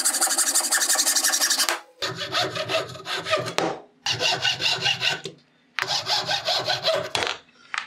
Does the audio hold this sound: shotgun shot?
no